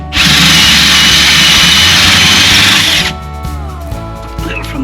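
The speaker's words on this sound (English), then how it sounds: "So now I'm going to use my new 2-inch hole saw" A 2-inch hole saw cuts through plywood in a Cyprus village carpentry project: a loud, close grinding whine for about three seconds, then the drill spins down with a lower, rougher hum.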